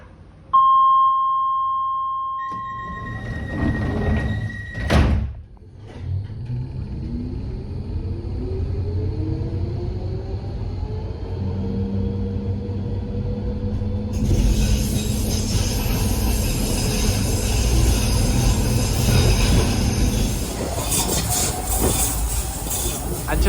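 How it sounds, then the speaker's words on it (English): A DLR light-metro train near Canary Wharf: door warning tones and a thud of doors closing, then the train pulls away with rising motor whine, rumbling wheels and squealing rails, loud and close throughout. "Train's ready to depart, so close the doors, please."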